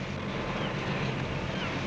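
Ship engines running aboard a Navy vessel at sea, a steady low rumble mixed with wind and water wash, continuous and fairly loud with no talking.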